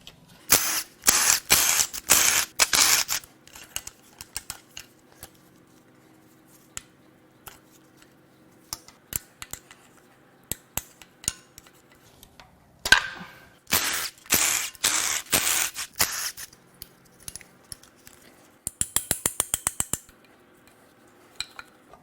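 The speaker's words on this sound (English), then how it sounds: "I'm going to spend a minute and remove the rails and injectors and then the lower intake manifolds." Ratchet wrench clicking while fuel rails and injectors come off a failed Honda J35Z8 V6 from an 11-17 Odyssey, in repeated close bursts of rapid pawl clicks separated by pauses, with a faster, lighter run of ticks near the end.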